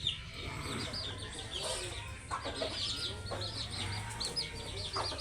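Two mother hens and their chicks in a farmyard, soft steady clucking and faint high peeping from the chicks, close by, with some quiet background noise and brief talk.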